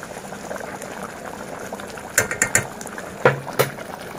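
Maharashtrian mutton curry simmers in a pot, giving a continuous soft bubbling with a few sharp clinks and scrapes near the end.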